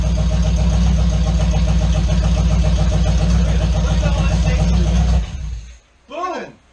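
A 1971 Oldsmobile Cutlass muscle car engine idles loud and close with a lumpy, pulsing rhythm for about five seconds, then cuts off abruptly, followed by a brief excited shout.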